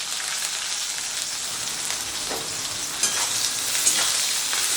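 Chopped onion dropped into hot oil with tempered spices for a Bengali broccoli curry, giving a steady loud sizzle throughout with a few louder crackles and stirring scrapes near the end.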